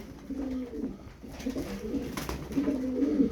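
Tumbler pigeons coo softly in low, rolling murmurs, several overlapping calls close by with faint background noise.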